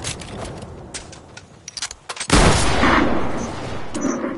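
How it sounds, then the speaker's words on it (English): A drum gun rattles off rapid automatic bursts in a video game match, loud and dense: scattered shots first, then a sustained heavy barrage. "Dude, what's with this drum gun?"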